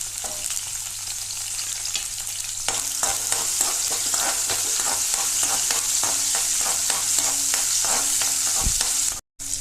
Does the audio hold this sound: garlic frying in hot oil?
yes